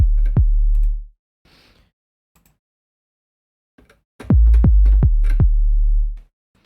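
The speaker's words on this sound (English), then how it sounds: "that's the kick plus the reverb." Surge synth kick drum with high-passed reverb and trimmed lows: a couple of deep hits, a quiet pause with faint tails, then a tight run of four loud thumps trailing reverb wash, with no other sound.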